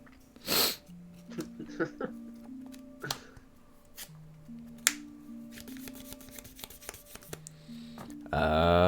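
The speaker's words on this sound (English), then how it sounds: "Sneezing from hay fever." A single sharp sneeze from hay fever bursts out near the start, followed by a room of people chatting, card shuffling and small clicks during a card game.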